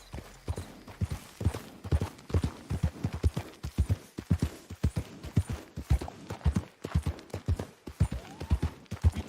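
Horse hooves clip-clop steadily while a rider travels in Red Dead Redemption II, a close, even rhythm of hoofbeats that carries on without a break through the whole stretch.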